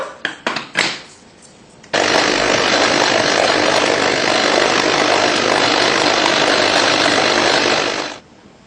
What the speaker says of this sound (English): Now it's time to start blending the meat and the vegetables mixed together.